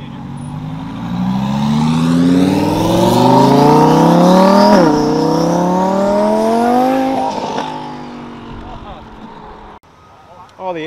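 Porsche GT4 and 4 GT sports cars accelerating hard, loud close engine notes climbing through the revs with a gear change midway, then fading away.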